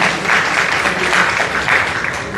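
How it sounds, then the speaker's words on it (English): An audience at a business council evening applauds in a thick, steady wash of clapping, loud and close, rising slightly in waves without any talking over it. "Big round of applause to you guys for showing up."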